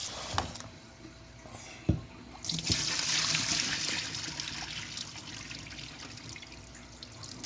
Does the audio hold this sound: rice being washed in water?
yes